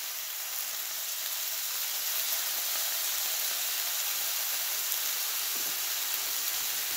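Bacon frying in a pan at a cabin: a steady, quiet hissing sizzle that stays even throughout, with no voices.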